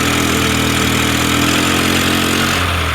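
A Scooty Pep+ scooter engine with a jerking and pickup problem runs loud and close, holding a steady buzzing drone that eases slightly toward the end, with no talk over it.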